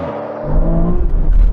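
Aston Martin cars revving at the start of a drag race, a loud low engine drone with rising tonal harmonics that grows heavier and rougher in the final second, heard close without speech.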